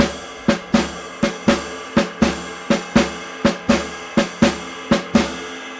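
A snare drum plays a steady swung jazz comping pattern of sharp, evenly paced hits on the first and third notes of each triplet, a shuffle feel, close and alone.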